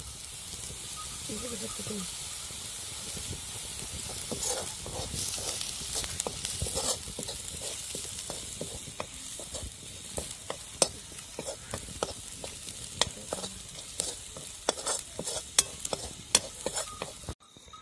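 Masala fries in oil for spicy sev bhaji with a steady close sizzle, broken by frequent sharp scrapes of a spoon stirring the pan, and a voice is heard faintly at times.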